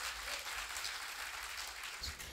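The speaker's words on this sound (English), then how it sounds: "Let's give them a round of applause." Audience applause for contestants at a regional school science and maths quiz competition, a steady broadband patter filling the whole moment at moderate, slightly distant level.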